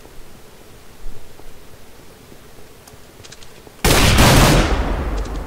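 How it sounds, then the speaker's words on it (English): An AK rifle in the Minecraft Minestrike game fires with a sudden loud, harsh blast after a stretch of quiet clicking and faint ambient noise, the burst sustained for over a second before tailing off. "a couple shots from an AK"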